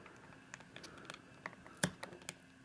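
A BaiWei Noah Diaz exosuit plastic model part being snipped from its frame, heard as a few quiet, close, sharp clicks with one louder snap partway through.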